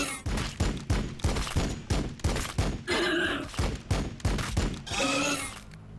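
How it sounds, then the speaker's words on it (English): Mounted bolt guns fire in Warhammer 40,000: Battlesector as a rapid, evenly paced run of heavy thumping shots, with two louder, brighter impact bursts breaking through the volley. "I'll have them use both of their mounted bulk guns to weaken this squad"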